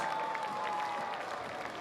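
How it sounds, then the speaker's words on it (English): Rodeo crowd in the Wrangler Rodeo Arena in Sydney gives steady applause at a night event, a continuous wash of clapping with a faint tone running beneath it. "give him a big round of applause"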